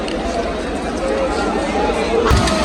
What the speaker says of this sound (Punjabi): ਲੱਡੂਆਂ ਦਾ ਲੰਗਰ ਤੇ ਭੀੜ ਵੇਖੋ ਕਿੰਨੀ ਆ